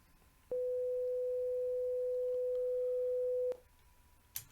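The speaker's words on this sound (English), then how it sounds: "the final tone should come out of your right speaker" A steady pure test tone sent to the right speaker holds at one pitch for about three seconds, then cuts off, leaving faint background hiss and a brief click at the end.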